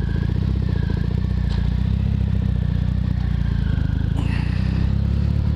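A Triumph Rocket motorcycle engine runs loud and close, a steady low rumble with mechanical clatter and a faint whir held throughout.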